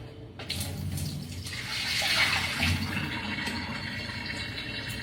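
Water poured out of a pressure canner while canning potatoes, a steady continuous splash and gush that swells slightly midway and runs the whole time, close and fairly loud.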